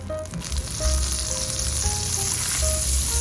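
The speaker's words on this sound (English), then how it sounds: "we're gonna saute garlic" Garlic sautéing in butter and a little olive oil in a skillet gives off a steady, close sizzle that holds even throughout with a faint low hum beneath and no talking.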